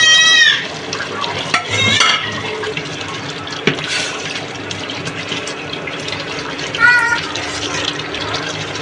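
Chicken pieces fry in a Bengali biryani spice paste that has released its oil. A steady, fairly loud sizzle and hiss runs throughout, with occasional clatter from stirring in the pot.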